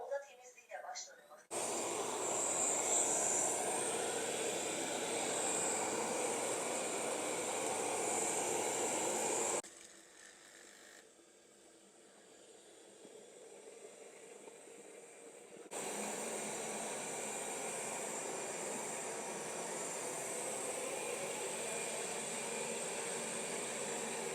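A Roborock S7 robot vacuum running on turbo suction gives a loud, steady whirring hiss. It drops to a quieter hum midway, then returns stronger, with a voice talking over it.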